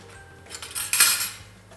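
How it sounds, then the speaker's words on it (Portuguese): Onion tipped into a pan while making a sugo sauce for fresh pasta, giving a brief clatter of metal and cookware, close and moderately loud, with no talk. "Então eu vou colocar aqui a minha cebola na panela"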